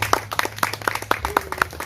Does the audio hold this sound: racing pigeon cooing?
no